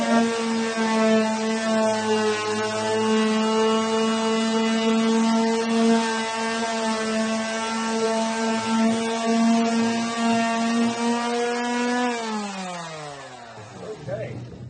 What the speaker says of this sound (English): So I've got an orbital sander here with 100 grit sandpaper.